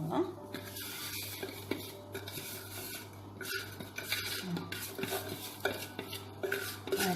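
A spoon's back scrapes and smooths cheesecake filling in a large mould, giving irregular soft rasping and clinking strokes up close, with no voices.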